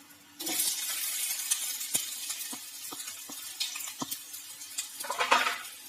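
Sliced onions drop into a hot pan for a dhaba-style white chicken dish and break into a loud, hissing sizzle. Sharp clinks of a spatula against the pan land several times over the steady frying, and a louder crackling swell comes near the end.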